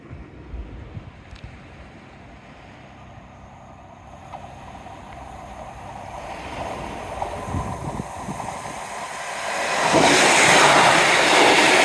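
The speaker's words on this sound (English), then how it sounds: "Certainly no shortage of trains today." A train rumbles past along a seawall, building steadily from a low rolling noise to a loud roaring rush near the end, with no voices.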